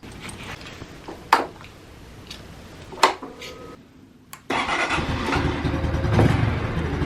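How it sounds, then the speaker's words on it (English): A 2022 Honda Super Cub 125 motorcycle starting up: a couple of sharp clicks and knocks, then the small engine catches and settles into a steady close idle. "How do you turn on a Super Cub 125?"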